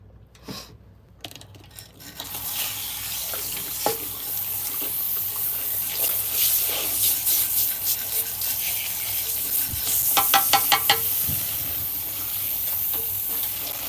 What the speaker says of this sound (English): Alright, so I'm going to go ahead and rinse my hair. This is cold water.